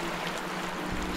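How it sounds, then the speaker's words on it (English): Canoe paddled through water in the Outlast II game, a steady broadband wash of churning water filling the short stretch, with a low swell near the end. "Just gonna keep paddling."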